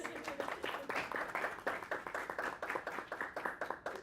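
Scattered clapping from a small group at a school club meeting, honoring a newly announced historian; a few dozen hands patter unevenly at moderate loudness, fairly close, with no voices over it.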